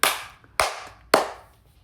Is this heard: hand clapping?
yes